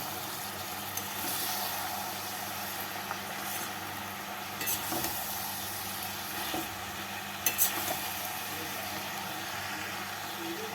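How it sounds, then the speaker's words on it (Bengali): Fried shrimp, potatoes and onions being mixed in a pan with sliced green chilies, a faint steady sizzle under occasional soft scrapes and clicks of a spatula. "ভেজে রাখা চিংড়ি মাছ আর আলু পেঁয়াজগুলির সাথে মিশিয়ে নেব"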